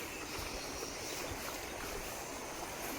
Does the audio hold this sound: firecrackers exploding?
no